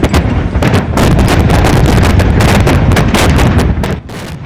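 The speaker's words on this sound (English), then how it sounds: "Explosions still going off at that site." Explosions keep going off at a massive industrial fire in Clinton Township, a dense, loud run of sharp cracks and booms over a constant roar before it eases slightly at the end.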